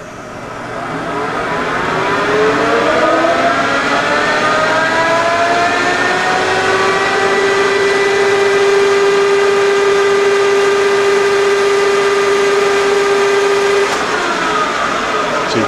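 A LeBlond Regal 15 x 30 gear head engine lathe spindle spins up to top speed, its loud whine rising in pitch and then holding a steady high tone before cutting off near the end.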